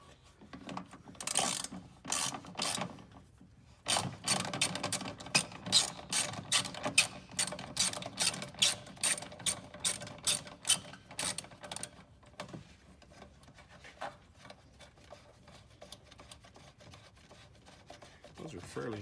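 Rapid clicking of a ratchet wrench loosening the screws holding the brake reservoir on a Ford Escape, bursts of close metallic ticking that slow and thin out toward the end.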